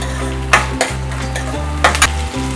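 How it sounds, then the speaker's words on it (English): Onion sautés in a pan with a steady close-up sizzle, punctuated by a few clanking scrapes of a spoon stirring against the metal, with no talking. "I'm going to saute the onion for 3 to 4 minutes till it gets the golden brown"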